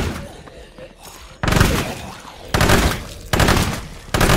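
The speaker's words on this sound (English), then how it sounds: "That SMG is so bassy." A burst-fire SMG fires in State of Decay 2, with loud, bassy three-round bursts repeating roughly every second after a quieter opening.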